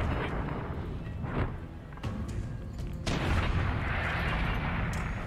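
Gunfire in Fallout New Vegas sounds as a run of loud booming shots that follow one another over a rumbling game background with no speech.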